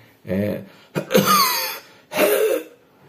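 A voice imitates a child's harsh, barking croup cough from laryngitis in three short bursts, hoarse and rasping with a drawn-out rough tail, close and fairly loud.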